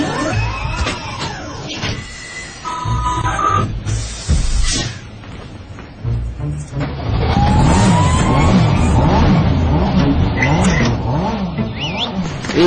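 An engine hums with loud revving surges and rising, falling pitch sweeps as the vehicle accelerates.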